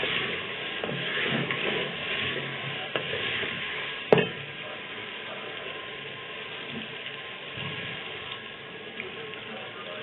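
Ginger and garlic frying in a pan for chicken karahi give a steady, soft sizzle with light stirring scrapes and one sharp clink of a utensil partway through.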